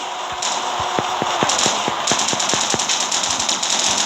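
Automatic turret fire in a multiplayer helicopter raid video game, a rapid run of sharp repeated shots at a steady clip over a constant loud mechanical drone.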